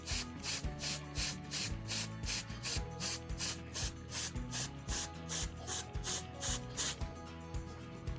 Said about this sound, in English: So we're just gonna spray.